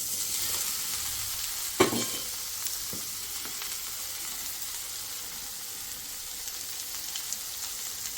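Onion and ridge gourd pieces frying in a pan, a loud continuous sizzle with a few brief knocks of a utensil, no talking.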